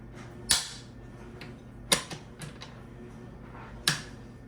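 A Remington 700 rifle bolt being worked by hand, with three sharp metallic clacks spread over a few seconds and a softer click between them, close and otherwise quiet.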